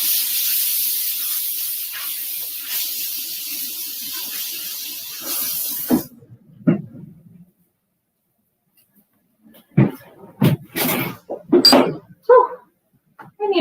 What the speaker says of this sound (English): I'm just going to rinse this off really quick.